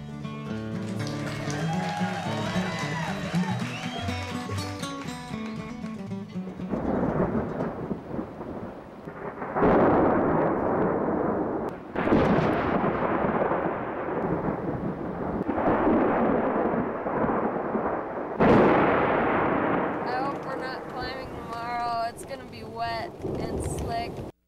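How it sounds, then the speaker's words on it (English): Deep rolling rumbles of thunder swell and fade repeatedly over steady rain on Mount Wilson, with a brief stretch of music at the start. "You can hear the thunder out there."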